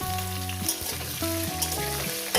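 Potatoes fry and sizzle steadily in hot oil, with stirring scrapes and a few clinks of a utensil against the pan, close and continuous with no talking.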